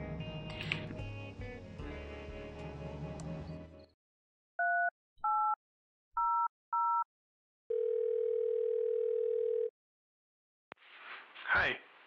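Telephone sounds in the video game Thimbleweed Park: four short paired dialing beeps followed by a steady, sustained dial tone, heard after a stretch of game background sound.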